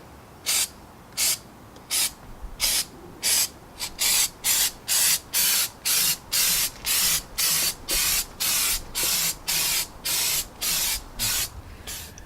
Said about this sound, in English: I've used all of the spray paint.